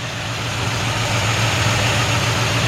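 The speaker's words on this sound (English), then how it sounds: "The engine sounds great. Runs super clean and very strong." The small-block Chevy V8 of a 1957 Chevy 3100 pickup idles steadily and close by, a loud, even low rumble with a slight lope and no talking.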